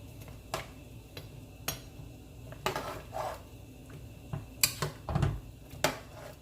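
Pots and dishes clink and knock as oxtail stew peas ingredients are loaded into a pressure pot, a scattering of faint metallic taps and a few sharper clatters at irregular intervals in a quiet room.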